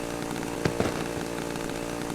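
A steady, droning video game chainsaw engine runs throughout, with a couple of sharp thumps near the start cutting through the constant buzz.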